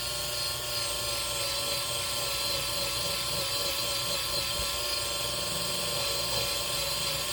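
An electric sander fitted with 150 grit sandpaper runs on resin, a steady high whirring drone held at an even level throughout with no pauses.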